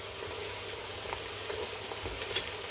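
Freshly chopped ginger and garlic sizzling in hot oil with golden fried onions, a steady close frying hiss with small crackles and faint stirring, no voices.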